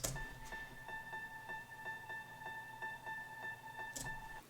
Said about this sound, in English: we're going to have a piano with a ton of reverb playing the 5th note